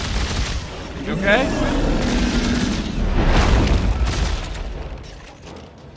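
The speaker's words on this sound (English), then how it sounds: "I'm shooting again." Gunfire in the co-op sci-fi shooter Dead Space 3, a continuous stretch of dense in-game shooting and booms under game ambience, with players talking over it.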